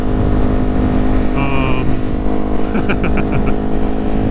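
Ducati Hypermotard 950 SP motorcycle engine droning steadily throughout a ride, with wind noise and a few short electronic beeps partway through, and a rider talking over it.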